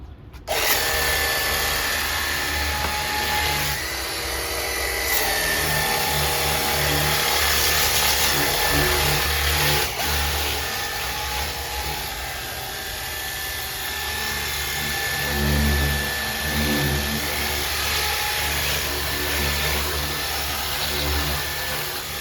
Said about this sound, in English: the Hcalory E2 Cordless Pressure Washer